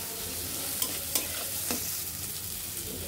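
Prawns fry with black cumin, turmeric and chilli powder in a pan, giving a steady low sizzle with a few sharp spatula scrapes early on, heard close and without voices.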